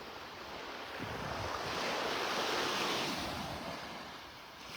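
Surf rolls and breaks steadily along a Gulf beach at Delnor-Wiggins in North Naples, Florida at sunrise, a broad continuous wash swelling in the middle with some wind noise, no talking.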